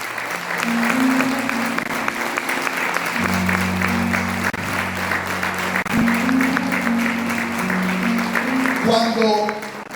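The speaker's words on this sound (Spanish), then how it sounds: "Den un aplauso a esta palabra." A congregation applauds steadily for the full stretch during a sermon, the clapping layered over sustained, droning musical tones.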